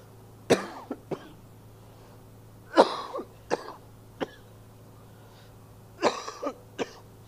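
Several separate coughs and throat clearings from a man giving a religious lecture come in small bursts with quiet pauses between, close to the listener.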